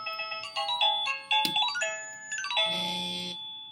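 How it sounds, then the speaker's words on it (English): A SadoTech Model H doorbell pager sounds a bright electronic multi-note chime melody after a short buzz, loud and close, with no talking over it. "press the doorbell, and you'll notice that the pager buzzes and plays the desired chime"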